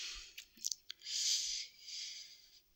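Several quick computer mouse clicks near the start, close and crisp, followed by a soft hissing whoosh; no one talks.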